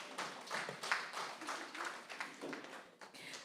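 An audience at a health ministry research day applauds the presenters, a faint, steady patter of many hands clapping at a distance.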